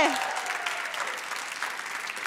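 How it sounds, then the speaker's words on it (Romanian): Studio audience applause on the Romanian Wheel of Fortune game show, a steady, dense burst of clapping that holds evenly for a couple of seconds. "Aplauze!"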